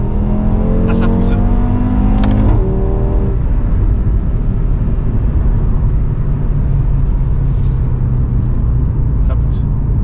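A 2018 Audi RS3 with 400 hp accelerates hard on a closed private road in Germany, its engine roaring loud and steady throughout, with some pops early on and voices speaking over it.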